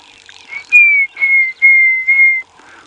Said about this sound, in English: Grey hornbills calling in the background.